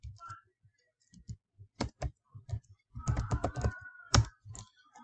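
Keys on a computer keyboard clack in short bursts and scattered single presses, with a denser run of rapid typing near the end, close and fairly quiet.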